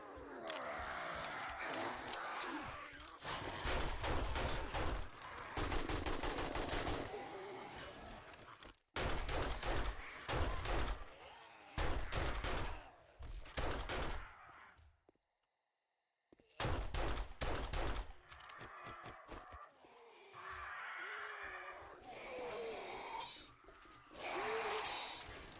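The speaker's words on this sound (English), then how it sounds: "This is when I'm glad I got the AK working." AK rifle fire in 7 Days to Die comes in loud, rapid bursts separated by brief pauses and a near-silent gap, with a player's voice speaking between volleys.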